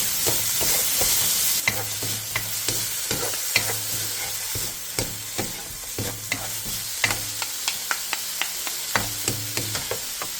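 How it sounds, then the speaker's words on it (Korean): Potatoes with salt and minced garlic are stir-fried over high heat in an oiled pan, a continuous sizzle punctuated by regular, crisp spatula clicks and scrapes against the pan. "팬에 기름을 두른 뒤 감자와 소금 3분의 2티스푼, 다진 마늘 반스푼을 넣고 센 불에서 2-3분간 볶아주세요."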